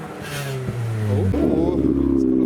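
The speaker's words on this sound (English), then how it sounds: "There is a S14 making noises, turbo sounds." A Nissan S14 with a turbo revs at a car meet, its engine note climbing and shifting pitch up close and loud, with turbo sounds and a person talking over it.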